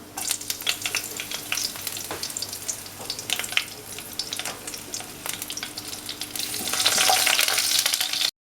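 Green chillies and black cumin seeds sizzle in hot mustard oil in a heated wok, a steady close frying hiss that swells louder toward the end, with no talking.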